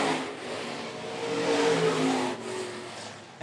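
Stock cars roar past on a dirt oval at Phillips County Raceway, a steady engine drone swelling and fading as the pack passes, with no voices over it.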